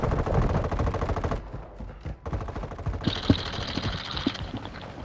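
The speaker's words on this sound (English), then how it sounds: "who the fuck is shooting at me?" Loud, rapid automatic gunfire in the Call of Duty video game rattles in sustained bursts with a short gap, then resumes alongside sharper single shots and a higher mechanical whine.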